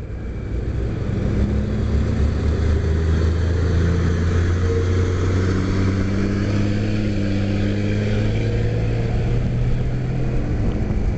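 A Honda CBR 600 RR ABS motorcycle engine drones loudly and continuously as it accelerates, its tone climbing gradually over wind noise, with no speech.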